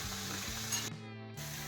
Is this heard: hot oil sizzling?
yes